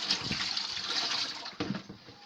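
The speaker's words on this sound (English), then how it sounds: "Then I pour out the salt water." Salt water used to wash blood leaf leaves is poured out of a container, a brief close splashing gush lasting about two seconds.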